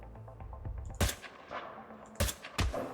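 Sniper rifle shots in the video game Hitman 2 crack out sharply, three loud near reports spread across a few seconds over quieter game ambience.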